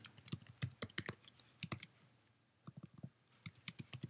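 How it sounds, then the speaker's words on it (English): Quick bursts of keystrokes on a computer keyboard, soft and close, with a brief pause in the middle before the clicking typing starts again. "And then we type the name"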